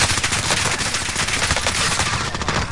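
Sustained automatic gunfire in a Call of Duty match, dense rapid bursts of shots running continuously and loudly throughout with game sound layered in.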